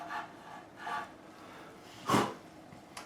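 Short rasping strokes of a file cutting nut slots on a 2022 Gibson Flying V guitar, a few separate scrapes with one louder, sharper pass near the end, close and fairly quiet, with no talking.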